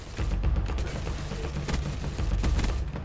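Galil rifle with an ELO sight firing in Black Ops 3 on Nuketown free-for-all, a dense run of rapid, loud gunshots bursting throughout with heavy low-end rumble.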